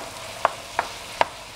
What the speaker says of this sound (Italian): aggiungiamo il prezzemolo, giriamo.